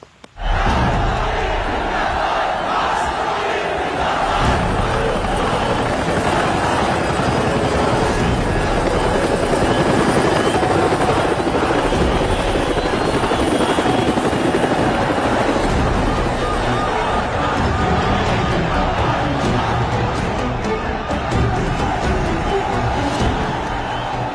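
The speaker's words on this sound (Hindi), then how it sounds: "जहां एक तरफ वीरेंद्र प्रताप का हेलीकॉप्टर उतरा" Helicopter landing at a crowded political rally in a film scene, a loud continuous rotor roar that drowns out the shouting crowd underneath.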